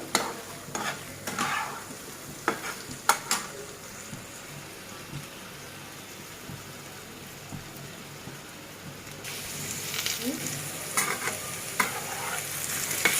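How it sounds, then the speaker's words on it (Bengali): Potatoes fry on medium heat in a pan for an egg and potato curry, with a steady sizzle and repeated scraping stirs that grow louder and busier toward the end, and no voices. "চুলার জাল বেশি দেওয়া যাবে না, একদম মিডিয়াম ভাবে জালটা দিয়ে আলুটা এভাবে ভাজতে হবে।"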